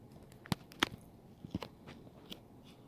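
Dry Magic Spoon cocoa keto cereal crunched in the mouth, a few sharp, close bites and crackles spread over a quiet moment.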